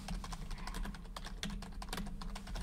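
Quick, clattering keystrokes on a computer keyboard with lighting effects, a steady run of close, crisp taps with a few heavier presses, alone without talk.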